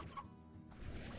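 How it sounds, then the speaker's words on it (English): A faint, brief burst of chicken clucking from the video game Slime Rancher, a few quick fowl calls alone and close. "I'm gonna grab these chickens."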